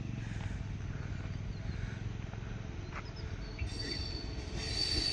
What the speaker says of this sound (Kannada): ನೋಡಿ ಇದು ಲೋಕಲ್ ಟ್ರೈನ್ ನೋಡಿ.